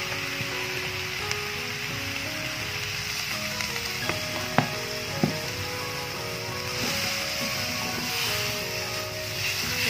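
Stir-fried mustard greens hiss and sizzle in a pan after a little water is added, a steady loud seething with a few clinks of the utensil against the pan.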